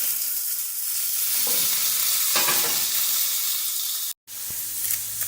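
A steak sizzles steadily in a hot pan as it is flipped, the frying hiss swelling briefly mid-turn before cutting out for a moment and settling back in.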